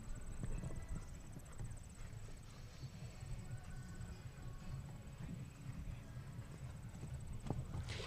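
Horse hooves clip-clop on the arena footing at a show jumping event, a faint steady rhythmic thudding under a constant background hum, fairly distant, with a brief sharper knock near the end.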